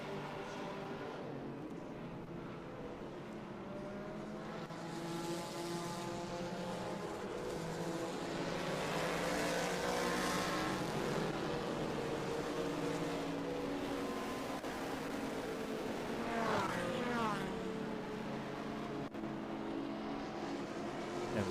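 Vintage race cars, a Mustang among them, roar past on the Indianapolis road course during an SVRA feature race. The engine noise is steady and dense, with one car rising as it passes and a voice talking faintly underneath.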